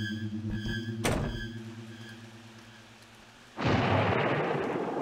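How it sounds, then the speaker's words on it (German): In the horror game Ao Oni, a sharp lightning crack cuts through a low droning music bed, followed a few seconds later by a loud sustained rumble of thunder and noisy rain-like wash. "Das war mal ein cooler Effekt mit Blitz."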